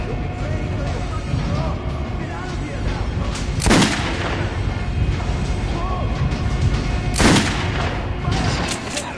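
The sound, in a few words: gunfire from weapons in video game Metro 2033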